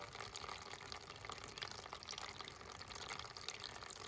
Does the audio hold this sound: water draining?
yes